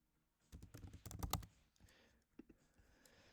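Fast bursts of typing on a computer keyboard while coding a 3D website, a dense cluster of crisp key clicks followed by a few scattered taps, close and fairly quiet.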